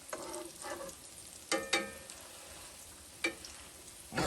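Potato cakes fry in a pan with a steady low sizzle, broken by a few sharp scraping and pressing knocks from a spatula as they are flipped and squashed down, with no talking.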